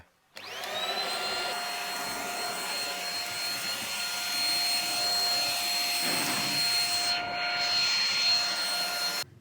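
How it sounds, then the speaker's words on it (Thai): A PerrySmith Extreme Series X10 small cordless vacuum cleaner starts up and runs steadily with a loud, high-pitched whine and airy rush, holding an even level close by throughout. "เดี๋ยวผมดูดฝุ่นเลยดีกว่า"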